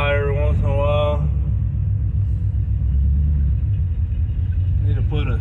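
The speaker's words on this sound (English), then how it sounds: "When I got my throttle cable hooked up, it kind of hangs and idles high every once in a while" A car engine fitted with an Edelbrock carburetor, idling high because of a sticky throttle cable: a deep, steady low rumble throughout, with someone talking briefly over it at the start and end.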